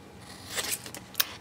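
Scissors trimming a paper belly band for a mini album, a few quick, close snips with a sharp final cut, quiet and with no talking.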